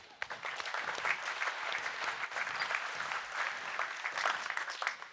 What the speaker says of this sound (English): We'll give these guys a clap